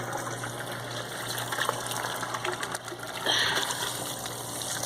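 Water from a hose gushes and floods into a hole in the ground to flush out a trapped bird, a steady rushing, filling flow with a brief surge in the middle and no talk.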